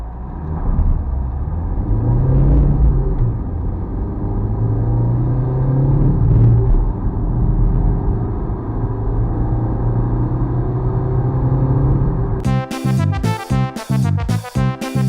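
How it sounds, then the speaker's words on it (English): A car engine drones and rumbles from inside the cabin during a hard-acceleration road test drive up to motorway speed, steady and loud, ending in a burst of rapid, choppy sound. "that was accelerating as hard as I can up to 70-75 miles an hour, and then cruising the rest of the way at that speed"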